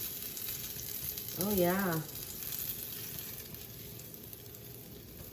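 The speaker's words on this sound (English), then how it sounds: "just let the chicken sit in the nice hot pan, and it'll continue to cook in the center" Chicken sizzling in a hot pan on low heat, a steady faint frying hiss throughout, briefly overlaid by a short spoken exclamation.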